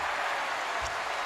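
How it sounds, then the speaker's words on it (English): Crowd applause fills a basketball arena during the 2004 West Finals between the Timberwolves and Lakers, a dense steady wash of clapping heard briefly. "Shaq hears the applause from the crowd"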